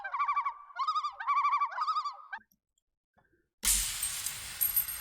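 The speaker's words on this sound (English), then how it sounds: "Some bird calls, loon calls." Loon calls used as a sample in music production: three wavering, tremolo-like cries in quick succession, then near silence, followed by an abrupt burst of loud noise.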